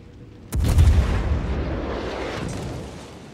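Main battery of the battleship Normandy in World of Warships firing one heavy, sudden booming salvo, followed by a long rumbling roll that slowly fades.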